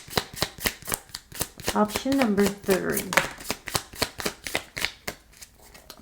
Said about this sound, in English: I love to finish shuffling.